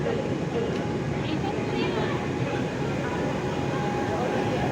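A passenger train pulls into a station with a loud, steady, broadband rumble that fills the whole stretch, and voices mix into the noise throughout.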